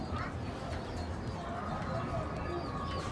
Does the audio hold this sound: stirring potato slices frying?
no